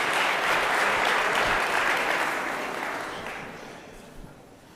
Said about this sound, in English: Come on, yo, keep clapping up for Jill